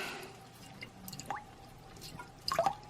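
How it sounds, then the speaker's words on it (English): Lemon juice is squeezed over a smoked bone-in pork roast with vegetables, giving a few soft, quiet drips and wet squishes at close range. "We're going to give it a good squeeze of lemon."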